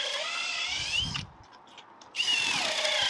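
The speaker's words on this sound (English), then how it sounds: "Using this Milwaukee drill." A Milwaukee M18 FPD2 cordless drill bolting a flitch beam in a garden room roof, whining loudly in two close bursts with a short pause between, no talking.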